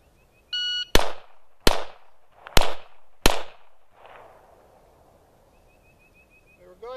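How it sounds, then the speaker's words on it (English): Four sharp handgun shots fired at targets in quick succession, evenly spaced and loud with short echoing tails, bracketed by electronic beeps of a shot timer before and after. "I shot 4 shots on the right target"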